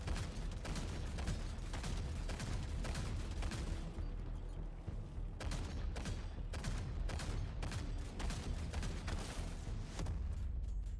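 Tank guns firing in the action game Tankhead, a dense run of sharp, repeated shots and booms with rapid bursts throughout, loud and steady with no talk.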